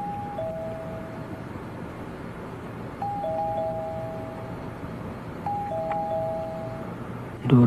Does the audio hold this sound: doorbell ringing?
yes